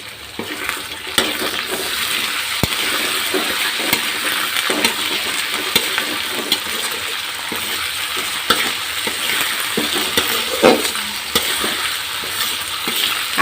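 Ginger-garlic paste fries in a pan over browned onions, a steady sizzle with scraping stir strokes and occasional sharper clicks of a spoon against the pan, close and continuous with no talk.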